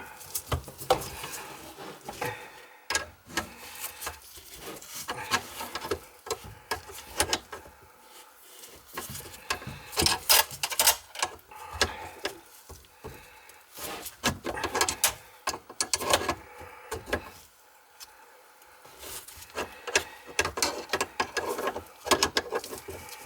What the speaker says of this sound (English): It's a compression nut, so you gotta tighten it.